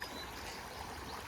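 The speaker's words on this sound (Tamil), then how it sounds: "தண்ணி பாருங்க வலிஞ்சு போய்கிட்டே தான் இருக்குது" Water flowing steadily along a roadside stream on the route near Tata Mark, a continuous broadband rush and trickle, close and fairly loud, with no voices.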